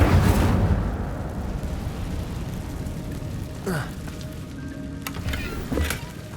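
Incendio fire spell cast in the video game Hogwarts Legacy: a loud fiery burst at the start, then crackling and rumbling flame noise, with further whooshing bursts near the end.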